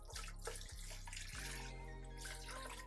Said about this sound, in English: Now to that, you wanna add some water.